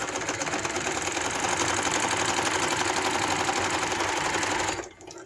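A sewing machine runs steadily, stitching lace onto a chaak daman hem. Its loud, continuous whirr holds for about five seconds, then stops abruptly.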